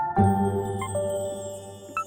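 Short, gentle melodic tones of calm video game town music, with sustained notes and a light chime, a soft and calm musical phrase lasting about two seconds.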